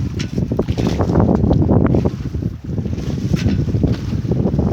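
A sailboat under a 140% genoa moves through a mild wind on Puget Sound. Gusty wind rushes across the microphone, and water splashes against the hull in a steady, close wash.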